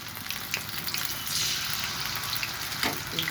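Taro pakoras fry in hot oil, a steady close sizzle with scattered pops and spatters, no talk over it.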